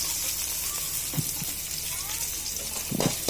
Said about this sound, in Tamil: அதனால் சிம்மிலே வச்சு வதக்குங்க.